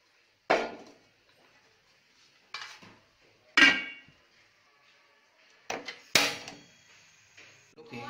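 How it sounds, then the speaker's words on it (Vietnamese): A pot of steamed crab cooked with beer is set on a stove and covered with its lid: a series of sharp metallic clanks and clatters, about five distinct knocks spaced over several seconds, close and fairly loud, with no voices. "lên bếp. Đậy vung lại."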